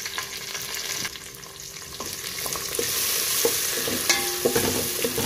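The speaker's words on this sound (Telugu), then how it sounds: "వీటిని కలుపుకుంటూ టమాటాలు మగ్గేంత వరకు మరో 2 నిమిషాలు ఫ్రై చేసుకుందాము" Tomatoes, mint leaves and coriander leaves stirred and fried in a pan with browned onions for egg pulao, a steady close sizzle with repeated scraping strokes of a spoon, louder toward the end, no voices.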